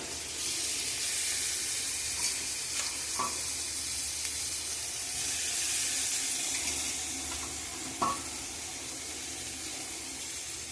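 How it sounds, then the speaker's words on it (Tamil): Onion and tomato fry in a pan for a potato and prawn dish, giving a steady close sizzle throughout, with a couple of brief stirring scrapes and no voices. "நல்லா வெங்காயம் தக்காளி ஃப்ரை ஆகிடுச்சு"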